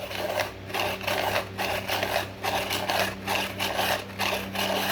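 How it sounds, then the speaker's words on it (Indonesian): A hand-cranked pencil sharpener shaves a pencil, making a rhythmic scraping and grinding that pulses with each turn of the crank over a low mechanical hum. "Lalu kita akan pemutaran di sini."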